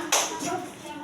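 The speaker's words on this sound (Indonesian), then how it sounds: "Berikan tepuk tangan yang meriah." A short burst of applause for a student in a classroom microteaching lesson. It starts sharply, then fades within a second, fairly quiet and with no talking over it.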